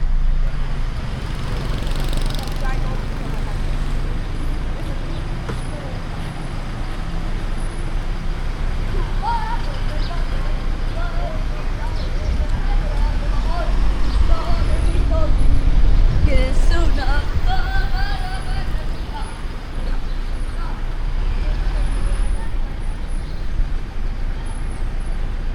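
Busy street traffic in Laos with buses, tuk-tuks and other vehicles: a dense, steady roadway rumble with engines passing nearby and a brief air-brake hiss, with faint voices in the background.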